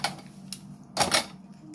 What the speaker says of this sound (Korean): 다이소에 5천원 삼겹살 가위